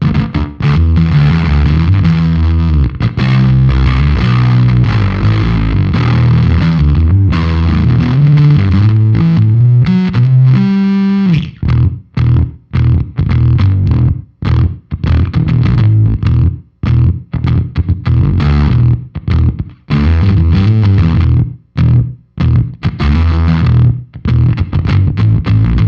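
An electric guitar played through a Haunted Labs Hell Horse fuzz delay pedal gives loud, thick, distorted riffs, sustained at first, then choppy stabs with short gaps between them.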